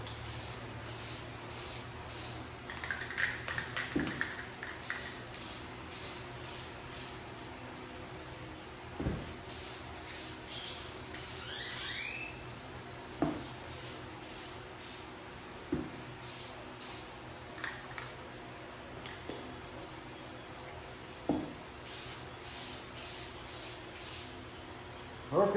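Short, repeated bursts of aerosol Plasti Dip spray hiss onto a Jeep Gladiator, each pass a few seconds long with brief pauses between, fairly close and steady, no talking.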